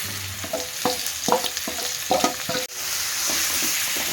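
Chicken pieces go into a pan of golden-fried onions for pepper chicken, a steady sizzle with rhythmic scraping and clatter of stirring, then a sudden brief drop before the sizzle settles into an even hiss.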